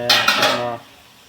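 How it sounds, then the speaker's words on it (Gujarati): A metal lid set down on a pot of green pigeon pea curry, giving a few close clattering clanks followed by a ringing decay that fades into quiet. "ચાલો હવે ઢાંકી દઈએ"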